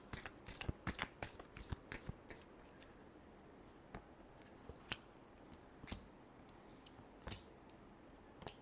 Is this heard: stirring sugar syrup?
no